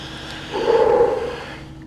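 A dying black bear lets out one drawn-out, low growling moan as air leaves its lungs. It swells and fades over about a second, moderately loud against quiet outdoor background.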